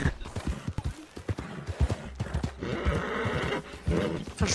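A horse in Red Dead Redemption 2 neighs loudly while galloping hooves clatter in quick rhythm, with faint talking in the background.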